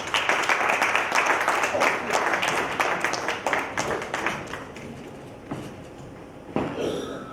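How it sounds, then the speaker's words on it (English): Audience applause at the valedictory session of a city summit fills the hall: dense, sustained clapping that tapers off gradually toward the end, with a fresh burst just before it closes. "Please, a round of applause for Abhishek Pandey."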